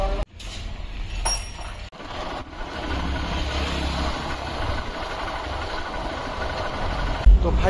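A motorcycle with a minor fault runs steadily while being repaired in Majgaon, Assam. The loud, continuous engine rumble drops out briefly twice early on.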